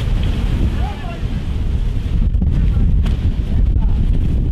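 Strong wind gusts buffet a harbour in Heraklion during stormy weather, a loud continuous roar of wind noise with a surf-like rush and occasional sharp bumps, no voices.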